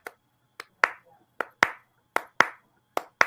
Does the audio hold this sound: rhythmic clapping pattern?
yes